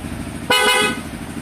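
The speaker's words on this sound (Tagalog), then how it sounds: "Lakas ang busina niya." One short, loud blast of a stock Sniper 155 motorcycle horn, close by, lasting about a third of a second against a steady engine hum.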